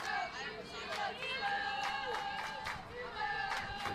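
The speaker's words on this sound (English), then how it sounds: "Both benches standing, clapping, cheering, trying to get everybody motivated" Softball players on both benches stand clapping and cheering at a regional college game, a lively crowd of shouts and claps going on continuously around the field.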